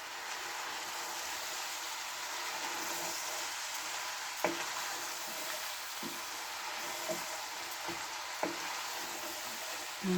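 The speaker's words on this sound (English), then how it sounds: "Can we give that a good stir?" Spicy chicken and chilies stir-fry in a hot pan with a steady, hissing sizzle throughout, punctuated by a few sharp taps of the utensil against the pan as it is stirred.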